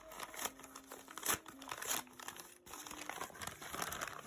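A purchased package being opened and unwrapped: close, continuous crinkling and tearing of plastic and paper wrapping, with a few louder rustles, and no talking.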